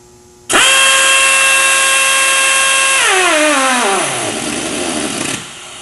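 A Torc-Up Raptor air-powered torque wrench runs at 30 psi with a loud, steady whine, then its pitch drops and falls away as the air motor stalls on a fastener at 200 foot-pounds, leaving a hiss of air before it cuts off.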